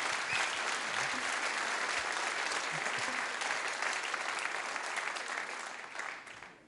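A concert audience at a big band jazz show with a guest percussionist applauds steadily, a dense sustained wash of clapping throughout that fades toward the end.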